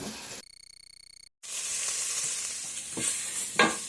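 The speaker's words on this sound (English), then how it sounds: "these are sizzling up nicely" Chopped onions sizzle loudly in a hot pan for chili with a steady crackling hiss, after a short electronic beeping tone at the start; a couple of clatters of stirring follow.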